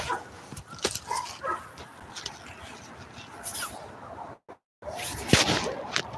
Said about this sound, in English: here comes a German Shepherd